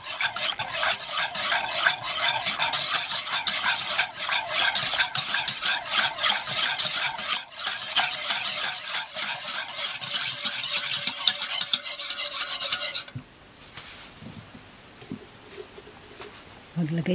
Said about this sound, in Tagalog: Haluin po natin mabuti hanggang sa matunaw yung chocolate.